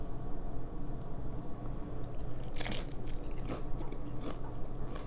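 Crunchy bites and wet chewing on a taco filled with Emerge plant-based meat substitute, close and repeated, with crisp shell cracks and squishy mouth sounds and no talking.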